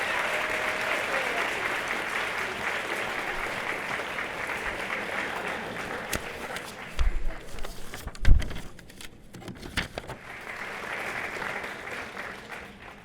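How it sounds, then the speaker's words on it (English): Applause from a banquet audience honoring a woman at a Women of Distinction event, steady at first, thinning and turning ragged with a few louder bumps midway, then swelling again toward the end. "We applaud you."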